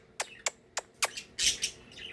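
Pet parakeet Sunny gives a quick run of sharp, excited chirps, about six bright calls in two seconds, close and clear with no talking over them.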